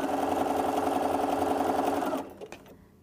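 A sewing machine stitches a wide zigzag, its rapid mechanical whir loud and close for about two seconds before stopping, followed by a few small clicks and handling noises.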